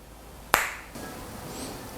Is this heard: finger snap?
yes